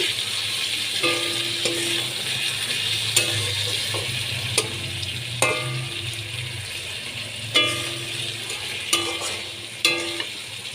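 Fasha fish stir-fried in a pan with nigella seeds keeps up a steady oil sizzle, broken every second or two by sharp spatula scrapes and clacks against the pan.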